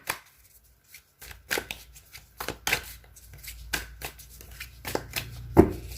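Oracle cards being shuffled and drawn by hand at a reading table: quick papery riffles and soft flicks in short bursts, close and fairly quiet, with a low hum underneath and no talking.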